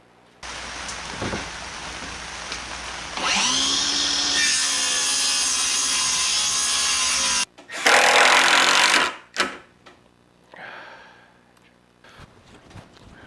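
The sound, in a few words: putting plywood top onto a screen-printing washout build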